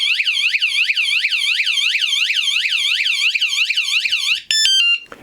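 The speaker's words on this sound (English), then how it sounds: "If they touch it again," A Fosman bike alarm blares after the bike is touched: a loud, rapid warbling siren that sweeps up and down many times in steady succession, then shifts to a series of short stepped electronic beeps, close and alone.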